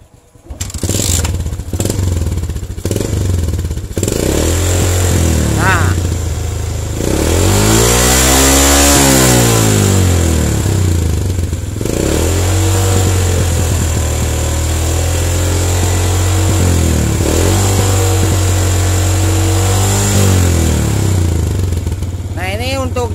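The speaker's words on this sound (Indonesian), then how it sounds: "Oke, kita coba hidupkan kembali motornya." Yamaha Jupiter MX motorcycle engine running just after a new regulator/rectifier is fitted, idling loudly up close and revving up and back down midway, with a voice talking over it.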